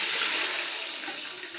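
A steady, loud rush of water is poured into a cooking pot of rice and lentils, a continuous splashing stream with no talking.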